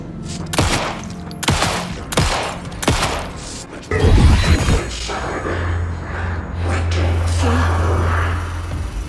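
Gunshots in the video game Alan Wake II, four heavy, widely spaced blasts, then a louder crash and a sustained low rumbling drone.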